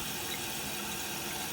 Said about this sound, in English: is actually water coming in and refilling until we see the ball rise high enough to shut off